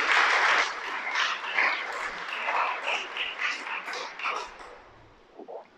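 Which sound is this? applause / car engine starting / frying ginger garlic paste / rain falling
applause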